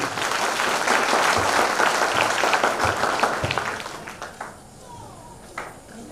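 An audience at a resort event in Guntur breaks into loud, sustained applause for several seconds, mixed with voices, then the clapping thins out and fades near the end.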